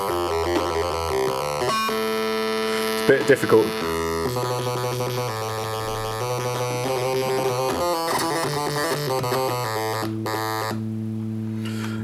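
A mono legato synthesizer played from a MIDI keyboard, with velocity-sensitive filter cutoff, produces loud continuous buzzy sustained notes that glide from pitch to pitch, with a brief spoken remark over it.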